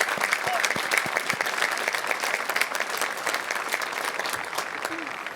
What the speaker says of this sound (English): receive our applause for your good service